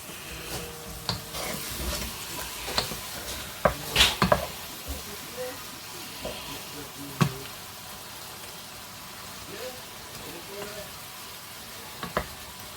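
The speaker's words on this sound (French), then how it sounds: "Donc là on va bien les faire revenir" Veal pieces browning in a pan, a steady crackling sizzle with scattered stirring scrapes and utensil knocks, loudest in a cluster early on and then settling into a quieter fry.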